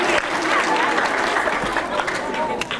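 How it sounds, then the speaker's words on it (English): A crowd claps for its own efforts at a leadership session, steady dense applause filling the whole stretch with voices mixed in. "Give yourselves a big round of applause, please."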